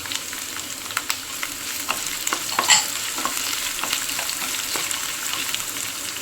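Chopped ginger and onion sizzling in hot oil in a pan while being stirred, a steady close frying hiss broken by scraping and clinking stirring strokes, with no talking.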